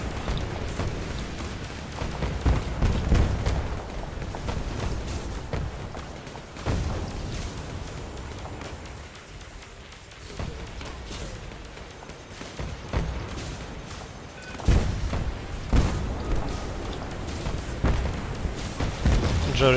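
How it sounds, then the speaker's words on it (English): Jericho missiles launching and detonating in a video game: repeated heavy booms and rumbling blasts, loud and close, recurring in waves over a continuous roar of battle. "Jericho missiles."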